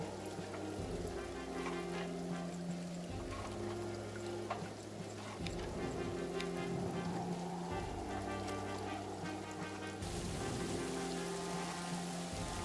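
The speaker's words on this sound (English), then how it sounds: "And the rain is back and nice and heavy." Heavy rain falls in the trench warfare video game All Quiet in the Trenches: a constant wide hiss of downpour with brief splashy crackles, layered over low sustained musical chords that shift every few seconds, with no voices.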